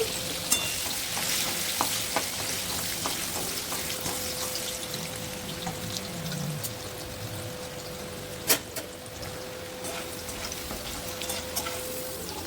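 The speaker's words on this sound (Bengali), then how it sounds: "গাজরগুলো আমি হালকা করে ভেজে নেব।" Carrots lightly frying in a pan for shukto, a steady close crackling sizzle with occasional stirring clicks and a faint steady hum underneath.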